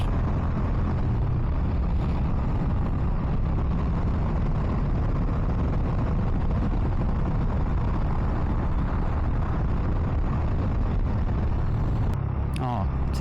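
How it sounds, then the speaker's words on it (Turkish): Heavy night city traffic in Gaziantep, heard from a Bajaj Dominar 400 motorcycle: a constant loud roar of engines and wind that rumbles on without a break, with a brief rattling change near the end. "çok fena bir trafik var."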